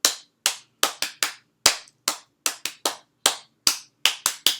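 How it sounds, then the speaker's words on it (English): About fourteen sharp, close hand claps stand in for the spelled letters while a class sings Bingo during a morning meeting. The claps fall in an uneven, song-paced rhythm with silence between them. "Now we're not going to say any letters, we're just going to clap, okay?"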